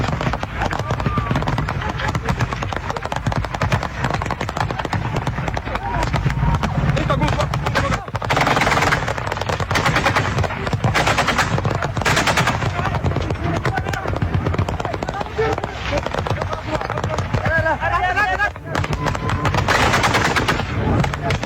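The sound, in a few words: gunfire, people shooting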